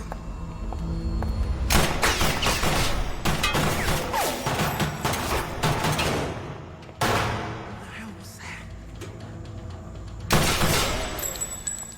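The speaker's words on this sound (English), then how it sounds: "Who's shooting?" Gunfire in a movie scene comes as sharp, loud bursts and crashing impacts in several clusters, some overlapping with shattering, against a busy soundtrack.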